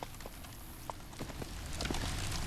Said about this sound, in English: The horse mount was given to us fairly early on, right after the initial starting area.